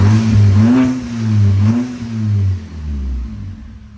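An Audi 2.0T with a custom straight-piped exhaust revs in loud, close blips, two sharp rises and falls, then a raspy held drone that settles toward idle.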